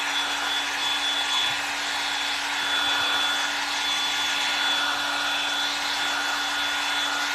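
A hair dryer blows steadily over damp paint on a ladybug craft kit, a constant loud whoosh with a faint whine running unbroken from start to finish.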